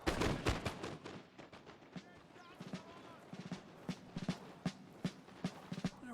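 Gunfire in The Carlist Wars video game, with repeated sharp shots cracking at irregular intervals, some close and loud, others fainter, as a person talks over the opening seconds.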